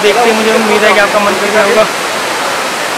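Bhatta Falls near Mussoorie, water falling hard into a pool where people prepare to bathe, a steady broad rush close by, with someone talking over it for most of the span.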